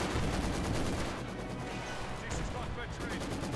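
Heavy mortar firing in the Company of Heroes 2 video game comes through as dense, loud, rumbling battle blasts that continue throughout the clip, with more combat noise mixed in.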